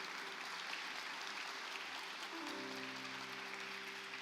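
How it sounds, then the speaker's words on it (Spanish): Faint, steady applause from a church congregation in a service, with soft sustained musical tones beneath the clapping. "Den un fuerte aplauso a esta gente."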